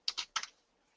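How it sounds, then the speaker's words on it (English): A short burst of typing on a computer keyboard: a few crisp, close key clicks in quick succession, then quiet. "typing in whatever it might be that you want"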